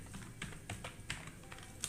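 Typing on a computer keyboard, a quick run of light clicking keystrokes at an even pace, close and alone with no one talking.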